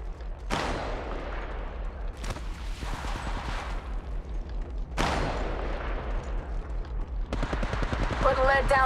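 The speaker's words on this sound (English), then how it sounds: "Putting lead down range" Rapid bursts of gunfire in the battle royale game Apex Legends, loud and close, with several sharp volleys and fast repeated shots amid game chatter from announcer-style voice lines.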